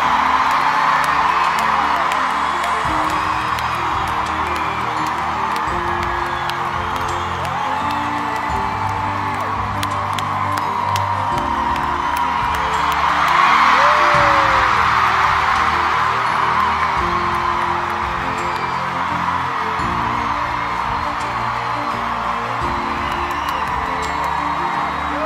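A huge concert crowd at a show cheers and screams continuously in a dense, sustained roar that swells briefly midway, with faint music underneath and no one speaking over it.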